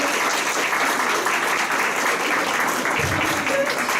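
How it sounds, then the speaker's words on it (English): An audience applauds steadily at a talk event on sex work, a dense, even wash of many hands clapping that holds at one level throughout, close and loud, with no voices standing out. "Can we give another round of applause for Amy?"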